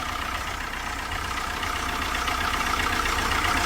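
A Chrysler PT Cruiser engine with bad blow-by and a knocking fault runs at a steady idle, a constant close mechanical rumble with no talk over it.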